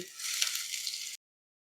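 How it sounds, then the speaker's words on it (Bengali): Chopped onion pieces hitting hot oil in a kadai to make fried onion barista, a steady bright sizzle that runs for about a second before cutting off abruptly, with no talk over it. "এখন প্রথম আমরা ব্যারেস্তা রেডি করবো হ্যাঁ পেঁয়াজের কুচিটা দিয়ে দিচ্ছি"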